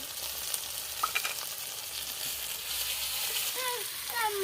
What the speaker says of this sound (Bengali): পেঁয়াজটা ভালো করে ভাজা হয়ে গেছে আদাটা দিয়ে দিচ্ছি